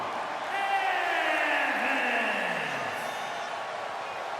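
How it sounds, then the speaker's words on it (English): Video-game arena crowd in WWE 2K25 roars steadily for a wrestler's entrance, a dense continuous cheer with a sweeping whoosh of entrance music effects layered over it. "What a crowd hyped here for Yvonne Evans as always."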